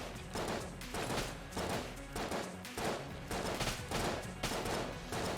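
Rapid, dense gunfire with bursts of exploding bombs and bouncing bullets in the game Enter the Gungeon, pulsing in loud repeated volleys throughout with no talking.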